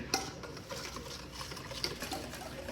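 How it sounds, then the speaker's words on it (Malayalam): Whisk stirring a sugar mixture in a bowl for a blueberry lemon loaf, soft continuous scraping and swishing with occasional light clinks against the bowl, close and fairly quiet. "വിസ്ക് കൊണ്ട് നമ്മൾ വിസ്ക് ചെയ്യണം"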